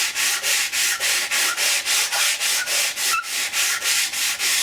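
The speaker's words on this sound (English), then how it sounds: "I just gently sand it." Fine-grit sandpaper rubs along the leading edge of a foam model wing in steady, even back-and-forth strokes, about three per second, close and clear with no talking.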